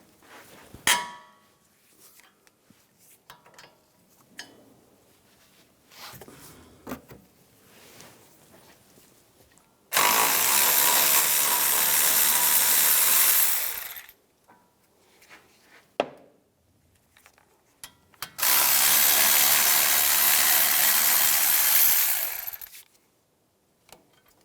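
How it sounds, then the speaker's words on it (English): Two brake caliper bracket bolts on a 2007-2014 Cadillac Escalade are loosened with a power tool on an 18mm socket. Two long, loud, steady mechanical bursts stand apart, with faint clinks of tool handling between them. "These two bolts, you want to remove those. Use an 18mm socket."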